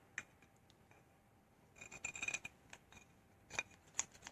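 Scissors snip felt for the backs of acrylic pour coasters in a few quiet, close cuts, sparse at first and then a quick cluster of crisp snips, with soft handling noises between.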